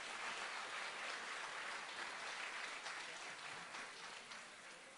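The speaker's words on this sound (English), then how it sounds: "they need a round of applause for that" Steady, dense applause from a festival audience at a live band performance, loud and continuous throughout, easing off slightly toward the end with no talking over it.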